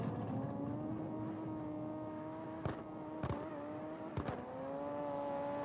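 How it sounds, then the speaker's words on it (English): A car engine in a drift-style racing video game drones with steady tonal harmonics, punctuated by a few short sharp bursts of revving or gear shifts, with no talking. "I hear a car."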